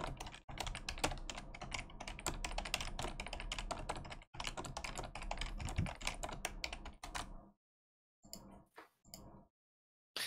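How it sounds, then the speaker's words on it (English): A computer keyboard is typed on rapidly in dense, continuous clicking bursts with brief pauses. A few sparse keystrokes follow near the end, faint and close. "It's funny to hear you bashing the keyboard and then slowly watch it appear because of latency"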